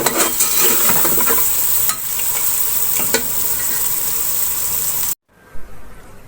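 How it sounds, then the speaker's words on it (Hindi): Chicken is stir-fried in a pan for aloo chicken, producing a loud continuous sizzle with repeated spatula scrapes and clatters before cutting off abruptly near the end into quiet room tone. "अब इस चिकन को मैं थोड़ी देर भून लूंगी"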